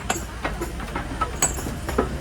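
Faint mechanical rumble and intermittent clicks of a train near the platform at Malavli railway station, beside the NH4 highway, with light ambient noise and no talking.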